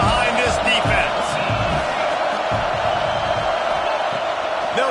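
Stadium crowd roaring at a college football video game featuring Penn State on a big third down, a dense, steady wash of cheering filling the whole stretch beneath a commentator's voice.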